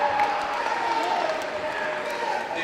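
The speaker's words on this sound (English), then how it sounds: "Big round of applause for them too." Applause and crowd noise fill a school pep rally honoring the band and the 2019 unified track team, a steady dense wash of clapping and cheering that stays loud throughout.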